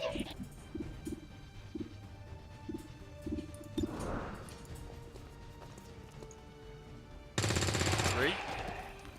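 Rifle shots ring out in the XCOM 2 video game: a run of evenly spaced, muffled shots early on, then a sudden loud burst of gunfire near the end, with a voice speaking in between.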